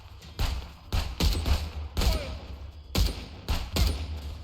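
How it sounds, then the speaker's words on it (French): Gunfire from a new weapon in the video game Contraband Police comes in several loud, punchy bursts of rapid shots with short pauses between them. The shots sound close and fairly heavy. "On va tester notre nouvelle arme."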